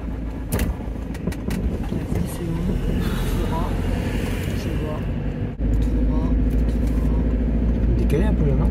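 A 4x4 grinding along a dangerous Georgian mountain road in the Caucasus, its engine droning loud and steady from inside the cabin while people talk over it.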